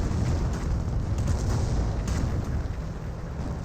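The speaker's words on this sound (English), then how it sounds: "Another Calliope rocket barrage running in" Calliope rocket barrage explosions in Company of Heroes, a continuous rumble of overlapping booms and blasts, with sharper impacts standing out near the middle.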